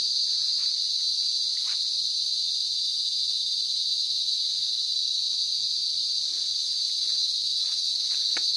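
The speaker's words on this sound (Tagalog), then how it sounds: "humuhunin yung mga kulisap" Insects buzz and chirp in a steady, high continuous drone on a farm lot in Magdalena, Laguna, with a few faint clicks and no talking.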